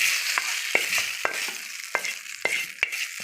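Hot tempering oil sizzles and crackles steadily as it is poured into ground gongura paste, with sharp pops and stirring clicks scattered across the hiss.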